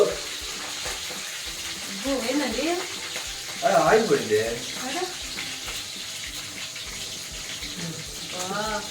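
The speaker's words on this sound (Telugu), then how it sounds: "ఆయిల్ హీట్ అయిపోయింది పచ్చిమిర్చి" Green chillies frying in heated oil give a steady close sizzle and hiss with a bubbling swell midway, under someone speaking Telugu.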